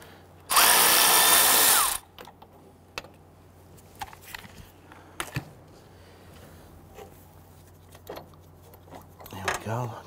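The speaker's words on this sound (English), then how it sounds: "we'll switch over to our power tool and zip that out" A power tool zips out a torque strut bolt on a 2011-2017 Nissan Quest 3.5L V6, one loud, harsh whirring burst lasting about a second and a half, followed by faint scattered clinks and handling noises.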